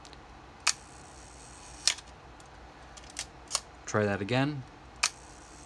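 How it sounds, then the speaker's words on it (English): A Nikon F Photomic camera's shutter fires at its slow 1-second speed, leaving a brief whirring stretch of mechanism between sharp clicks. Several isolated clicks also sound, and a short spoken phrase comes near the end. "you can hear a little bit of hesitation in the camera mechanics on the 1 second shutter speed"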